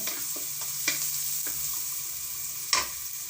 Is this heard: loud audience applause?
no